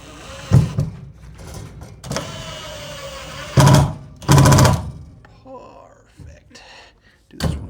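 A power drill with a screwdriver bit drives screws to mount a shelf in a tiny off-grid power shed, giving a few sharp whirring bursts of a second or less between quieter pauses, with a person talking softly in between.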